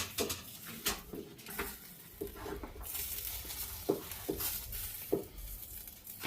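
Quince kebab hitting a hot pan to cook, a soft ongoing sizzle broken by scattered light clinks and taps of utensils, fairly faint and close, with no talking.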